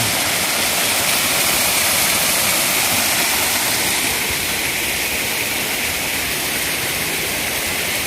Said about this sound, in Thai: ตรงนี้ก็มีน้ำตกด้วย